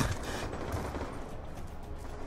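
Continuous gunfire in a Call of Duty multiplayer match, a dense, unbroken rattle of shots at moderate volume throughout, with no clear speech on top.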